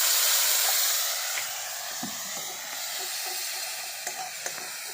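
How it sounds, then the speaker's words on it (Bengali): Spice paste with turmeric and coriander powder frying with a splash of water, a strong hissing sizzle that is loudest at first and then settles, with a few light spoon scrapes and taps as it is stirred; nobody speaks. "অল্প একটু জল দিয়ে ভালো করে কষে নিচ্ছি"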